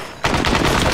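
Automatic rifle fire from the military shooter Arma 3 erupts after a short quiet moment, a loud, close burst of rapid repeating shots.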